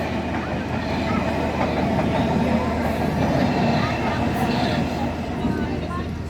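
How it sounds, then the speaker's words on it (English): Train rumbling across a railway bridge above a canal, heard from a narrowboat below as a steady, loud, continuous roar with clattering texture throughout, with a voice talking over it. "that's a train going over the top of it now."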